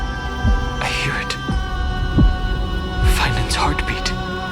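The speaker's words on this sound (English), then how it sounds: "Finan's heartbeat." Finan's heartbeat in Honkai: Star Rail, a few faint low thumps at irregular intervals beneath a steady drone and swelling airy sounds, with no voices.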